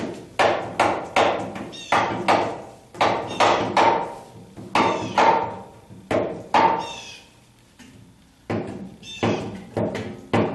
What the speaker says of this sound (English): let's see if I can tap it on with this hammer